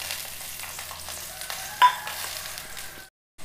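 Chopped shallots sizzle in two spoons of hot coconut oil for a tempering, a steady close frying hiss with a brief stirring clink before the sound cuts off.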